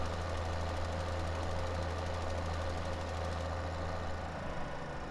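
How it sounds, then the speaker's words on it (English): A tractor engine in Farming Simulator 17 drones heavily with a low, rhythmic knocking pulse, straining under load while ploughing, loud and continuous with no talking. "And you can hear the tractor pull down."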